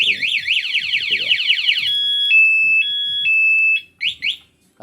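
A Yamaha NMAX motorcycle alarm triggered by its vibration sensor blares up close, first in rapid rising-and-falling electronic warbles, then in long steady high tones, ending with a few short warble bursts.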